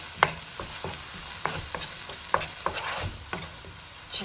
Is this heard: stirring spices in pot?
yes